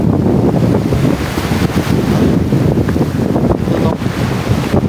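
Ocean waves and strong wind at Bayug Island, a steady loud roar of surf with wind buffeting the microphone throughout, no voices.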